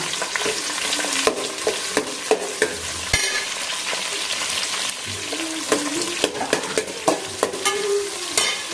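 Sliced onions sautéing in hot oil for vegetable biryani, with a constant close sizzle and repeated sharp scrapes and knocks of a ladle stirring against the pan, no voices.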